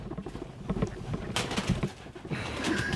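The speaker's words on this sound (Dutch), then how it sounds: "ik haat duiven echt jongens" Pigeons coo inside an abandoned factory, soft repeated murmuring calls layered over rustling, flapping and a steady noisy hum of the large empty space.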